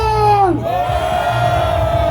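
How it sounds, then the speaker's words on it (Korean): A crowd at an outdoor presidential campaign rally in front of COEX in Samseong-dong, Seoul, lets out a loud, sustained roar and shouting, packed and close for the full two seconds. "함성."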